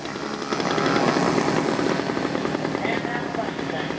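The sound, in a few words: P-40 Tomahawk scale model airplane flying past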